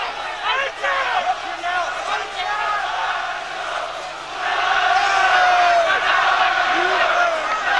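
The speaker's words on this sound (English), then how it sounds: "The crowd, once again, bring up the chants of Nigel." A large boxing crowd at a 1993 Eubank versus Benn bout chants a name over and over in a loud, rhythmic roar that swells near the end and fills the whole arena.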